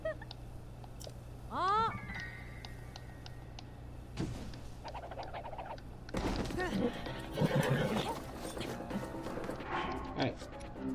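A horse in Zelda: Breath of the Wild gives a rising, clear whinny early on, and later clip-clopping hooves and game effects follow while a person talks over the action.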